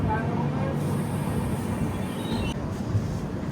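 The Kirandul passenger train, number 58501, pulls away from Srungavarapukota station, giving a continuous close rumble of wheels and carriage noise with a faint high squeal, steady throughout.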